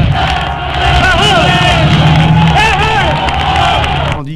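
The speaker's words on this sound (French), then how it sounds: "À sa sortie de l'Élysée, Eisenhower est acclamé." A Parisian crowd cheers and shouts for Eisenhower as he leaves the Élysée, captured on a 1960s French news record; loud, dense massed voices roar continuously throughout.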